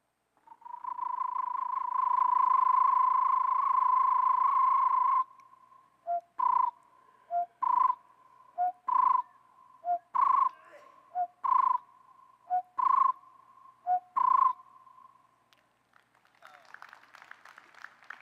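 A man imitating a bird's call with his voice, mixing a rolling trill with a whistle: a long sustained whistled trill, then a run of about ten short rhythmic whistled notes, close and alone.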